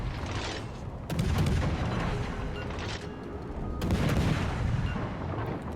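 Warship guns firing in the naval game World of Warships Legends, heavy booming salvos landing over a constant dense battle roar, loud and close, with no talking.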